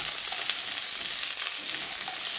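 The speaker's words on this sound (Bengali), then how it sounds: "গ্যাসের ফ্লেমটাকে হাইতে করে ডাঁটা আর আলুগুলোকে আরও 2 মিনিট মতো ভেজে নিতে হবে।" Drumstick stalks and potatoes fry over a high gas flame with a dense, bright, continuous sizzle, close and fairly loud, alone without talk.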